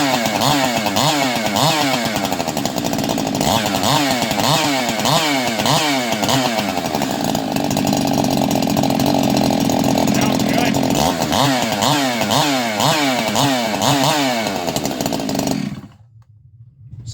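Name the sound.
ported Stihl 391 chainsaw running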